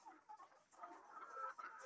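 Laying hens clucking in a poultry house, a faint, quiet series of short clucks and murmurs over about two seconds with no voices.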